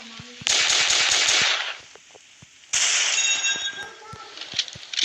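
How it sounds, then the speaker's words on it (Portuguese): Two loud, close bursts of rapid gunfire from a sniper rifle and shotgun, likely in a video game, each roughly a second long with sharp cracks and ringing tails between. "E também vou treinar um pouco com a pistola sniper e shotgun."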